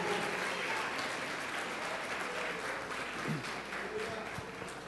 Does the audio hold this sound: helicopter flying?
no